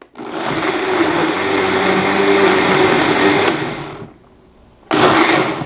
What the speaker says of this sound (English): So now, you know how Vitamixes are really powerful.